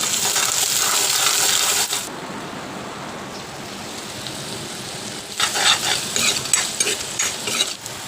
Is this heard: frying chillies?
yes